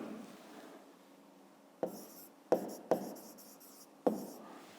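A pen writes by hand on paper during a fifth-grade maths exercise, soft scratching broken by a few sharp taps of the pen, close and quiet.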